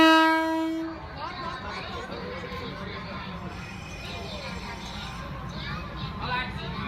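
A train horn sounds briefly at the start, then a steady rumble of rail cars rolling through a Thai market with crowd chatter around it.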